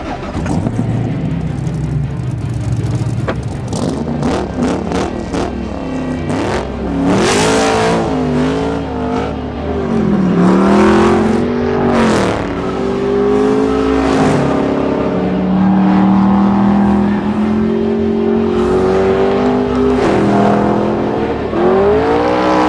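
A car with an LS7 V8 engine accelerating and revving hard, a loud, close engine roar that rises and falls in pitch through repeated pulls and gear changes.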